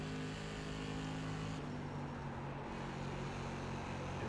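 SK Modified race car in the iRacing video game, a loud continuous engine drone that dips briefly under braking and then climbs back as the throttle reopens, steady in-car perspective.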